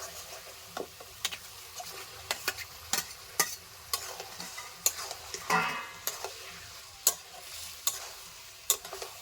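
Pork pieces fry in a pan of spice masala, giving a soft sizzle broken by sharp, irregular clicks and scrapes as a spoon stirs the meat. The sound is fairly quiet and close.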